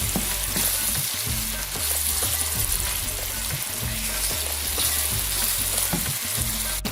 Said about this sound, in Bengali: এখন ভালো করে মশলাটাকে একটু কষে নিই।